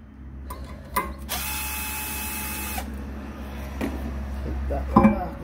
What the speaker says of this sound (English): Right, let's go ahead and get this rotor off.